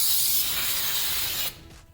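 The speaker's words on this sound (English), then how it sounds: "Spray this off with some brake clean again." Brake cleaner sprays in a steady, loud hiss onto the brake parts of a 2006 Subaru WRX for about a second and a half, then cuts off, leaving faint workshop sounds.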